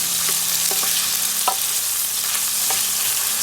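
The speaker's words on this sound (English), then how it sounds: "Just keep on stirring and stirring and stirring again" Yellow onion fries in a hot pan with a steady, close sizzle, while a spatula scrapes and taps at irregular moments as it is stirred, as a base for pork adobo.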